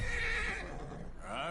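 A horse in Red Dead Redemption 2 lets out a loud, close whinny that rises and then falls away, brief and vivid.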